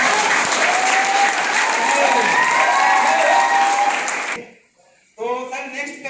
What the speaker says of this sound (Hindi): एक बार हो जाए जोरदार तालियां।